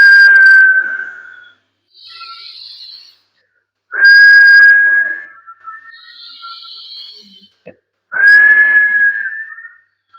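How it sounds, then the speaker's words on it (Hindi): Three loud whistled exhales through the mouth during nadi shuddhi yoga breathing, each a sustained tone spaced about four seconds apart, with softer breathy hisses between, close to the microphone and without speech. "लेफ्ट नाक से सांस लेना है और मुंह से सीटी बजाते हुए छोड़ना है"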